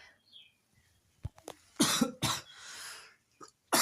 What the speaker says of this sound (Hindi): सॉरी जुकाम है इसलिए खांसी आ जाती है